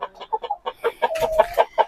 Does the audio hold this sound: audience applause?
no